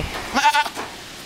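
A goat bleats once nearby, a short wavering cry that rises out of quiet background noise and fades quickly.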